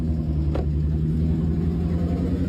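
Car making an abnormal noise after hitting a rock, a steady low rumbling drone with a constant engine hum heard from inside the vehicle, loud and continuous.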